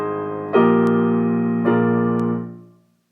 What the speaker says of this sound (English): A half cadence sounds very unfinished.